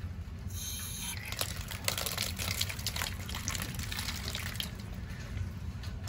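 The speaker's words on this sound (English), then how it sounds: "we'll go turn the water on the rest of the way" Water runs steadily from an old outdoor frost-free hose bib faucet, a constant gushing hiss that stays level throughout with no talk.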